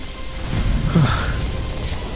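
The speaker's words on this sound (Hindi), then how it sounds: "शाम को तेज बारिश होने लगी सो अलग।" Heavy evening rain gives a dense, loud, continuous hiss and patter with a low rumbling undertone, steady throughout and without speech.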